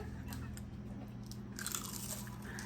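Biting into a crunchy turon, a fried banana spring roll, gives close, soft crackly crunches and chewing, with a brighter crisp burst midway, quiet and near.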